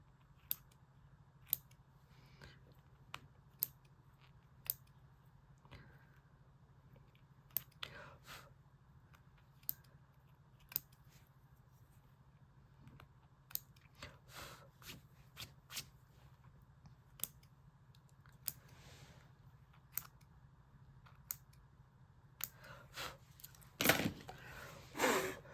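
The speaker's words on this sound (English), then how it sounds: "I'm just flipping over and again trimming thread tails just to clean up the back" Scissors trim thread tails on the back of a sewn zip bag, giving sharp, isolated snips spread irregularly, some in quick pairs, over a quiet background hum.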